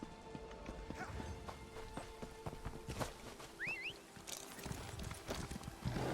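Horse in Elder Scrolls Online: faint, steady clip-clop of hooves trotting, with a brief whinny partway through, all at low volume.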